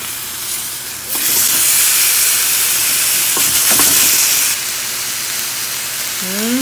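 Chicken searing in a grill pan, a loud broad sizzle that swells after a second and holds steady, with a few knocks of handling before easing slightly toward the end.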